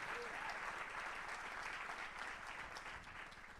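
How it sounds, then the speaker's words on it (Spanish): A church congregation breaks into sustained applause during a Spanish-language sermon, a steady dense wash of clapping that fades slightly toward the end. "Alguien le da un aplauso al Señor"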